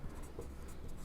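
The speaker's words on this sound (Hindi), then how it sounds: "तो यहां पर हम लोग लिखेंगे अतः" Writing with a pen or chalk while working through a math lesson on rational numbers, with a few short faint scratching strokes close by and no talk.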